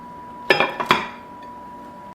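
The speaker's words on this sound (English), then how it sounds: "Then put the lid on." Two quick clinks of a lid being set onto a casserole dish holding chicken supremes, close and sharp, followed by a quiet pause and another brief clink at the end.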